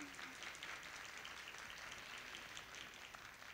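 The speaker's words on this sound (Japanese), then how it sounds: "ファンの皆様、須尾選手に今一度大きな拍手をお送りください。" Fans applaud a boat racer at a New Year greeting event, a faint, distant, continuous patter of clapping with no voices on top.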